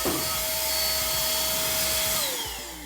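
An XL blow dryer blasts cut hair across a salon studio floor, a loud steady rushing roar with a thin whine that winds down near the end, heard alone and up close.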